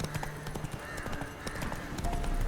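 Hooves of the horse Roach clip-clop at a quick, even trot in a video game, with soft tack jingles over ambient game sound.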